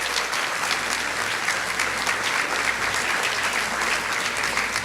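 A church congregation applauds visiting members during a Good Friday service, a dense, steady wash of many hands clapping at full volume throughout.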